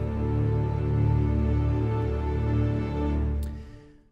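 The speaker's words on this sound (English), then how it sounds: "So when we take our, you know, low strings and we combine that with, you know, the cello, and then we take Albion 5" Sustained orchestral low strings blended with cello and Albion 5 samples swell in a dark, steady chord, holding for about three and a half seconds before fading out, with no voices.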